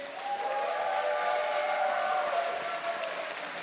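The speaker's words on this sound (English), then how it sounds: "Come on, give them a cheer." A large esports crowd at the Nintendo European Championships applauds and cheers for both teams after an overtime match, a dense, steady wall of clapping and whoops with no talk over it.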